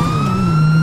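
A police car siren in the video game GTA V with the LSPDFR mod gives a loud, steady electronic wail, a sustained tone that holds briefly and alone.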